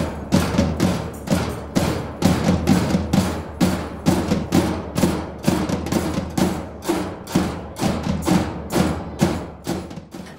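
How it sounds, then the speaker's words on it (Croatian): A young percussion ensemble from an art school drums loudly at the opening of an arts and tolerance festival in an old town: dense, rapid, powerful drum hits in a driving rhythm, close and continuous. "Mladi udaraljkaši Bum Bam ansambla iz umjetničke škole Matka Brajše Raša na Labin glasno su na Torionu nagovijestili početak prvog međunarodnog festivala umjetnosti i tolerancije Labina."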